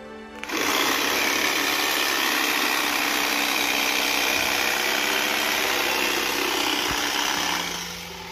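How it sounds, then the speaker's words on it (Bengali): An electric cutting machine with a motor trims date palm leaves in Saudi Arabia, a loud continuous buzzing whine running steadily for several seconds before tapering off. "এটা হচ্ছে কারেন্টের মেশিন, এই যে মেশিন"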